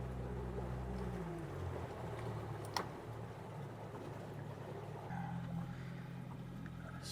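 Boat engine on a lake being run up to full RPM, a steady deep droning hum with a low pitch that shifts slightly partway through, continuous and fairly quiet.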